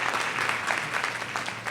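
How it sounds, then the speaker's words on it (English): A seated conference audience claps steadily at the close of an oncology lung cancer update talk, a soft, even patter of many hands heard from a distance. "there's applause at the end"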